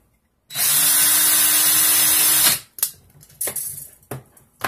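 A power drill whirs steadily for about two seconds as it twists lengths of 24 gauge coil wire held in the chuck, then stops, followed by several short clicks and handling noises.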